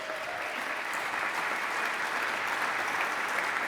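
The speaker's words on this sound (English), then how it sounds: "please, an applause for Cindy Bitterman" An audience at a memorial gathering claps in steady, even applause for a few seconds. The clapping sounds moderately distant and roomy, and no one speaks over it.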